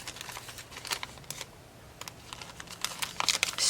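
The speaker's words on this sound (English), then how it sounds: "let's go ahead and open up this pack of stickers" A thrift-store pack of stickers is handled and opened, giving sparse crinkly plastic rustles and small clicks in quiet close-up, with no talk.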